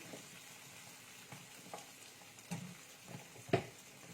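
Potatoes drop one by one into hot oil tinted with turmeric in a pan, giving a soft steady sizzle with a few sharper clunks and scrapes as they land and are stirred.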